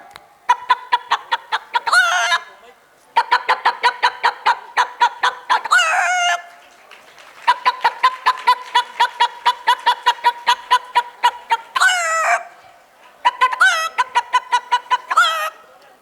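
A mimicry artist imitates a hen with rapid rhythmic clucking in several loud bursts, broken by rising squawks, all performed by voice alone.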